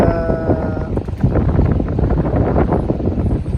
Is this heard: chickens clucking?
no